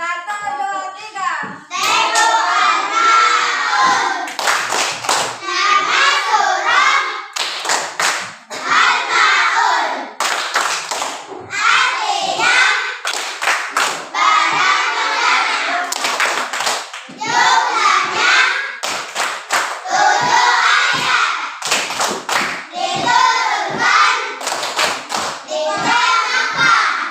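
Children in a classroom perform the tepuk al-maun, a rhythmic clapping chant, with loud chanted voices broken up by bursts of sharp group claps in a steady, patterned rhythm.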